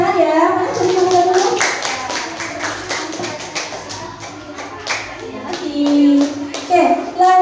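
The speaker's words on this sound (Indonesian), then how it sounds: "Oke, tepuk tangan ya." Classroom of children clapping their hands together, a loose burst of nearby claps mixed with kids' chatter and voices talking over it throughout.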